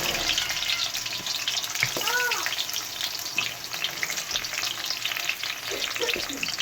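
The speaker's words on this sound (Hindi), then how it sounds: "हम फुल फ्लेम पे इन्हें फ्राई करेंगे, रोस्ट करेंगे।" Boiled potatoes frying on full flame in a pan, a dense, continuous sizzle with occasional stirring scrapes, close and steady throughout.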